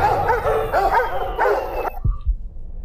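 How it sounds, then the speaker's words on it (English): Dogs barking in the video game Observer, a run of loud, close, repeated barks and yips for about two seconds before cutting off, followed by low thuds. "it was just fucking dogs barking all the way around"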